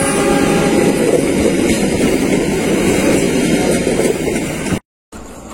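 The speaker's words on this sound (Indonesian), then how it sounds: "kereta api Matarmaja tiba di stasiun Nganjuk" The Matarmaja passenger train arrives at Nganjuk station at night, a loud, steady rumble and roar of rolling cars filling the scene for several seconds before a sudden cut and a brief quieter tail.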